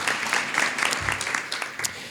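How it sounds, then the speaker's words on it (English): Audience at a healthcare education press conference applauding, a brief patter of clapping from a modest crowd heard at a moderate distance. "Can we please give a round of applause to Mr. Neal as well?"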